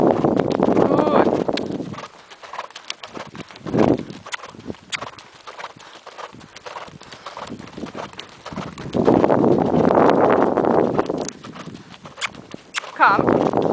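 A horse canters on a lunge line after a winter break, its hoofbeats thudding in a steady, close rhythm, with bursts of breath or rustle and an indistinct voice now and then.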